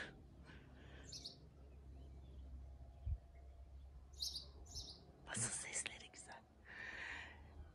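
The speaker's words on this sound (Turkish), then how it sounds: "Kuşlar cıvıl cıvıl." Birds chirping outdoors in a garden, faint scattered high tweets and short calls against quiet background hum, with a person whispering between them.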